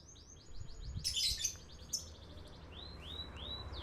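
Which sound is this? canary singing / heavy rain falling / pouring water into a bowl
canary singing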